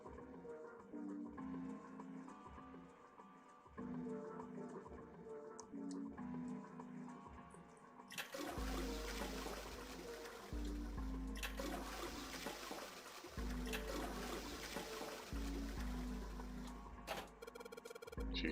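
A toilet flushing in the video game 999: 9 Hours, 9 Persons, 9 Doors, a loud rushing wash of water that starts partway through and runs over a soft game music loop, cut by brief pauses.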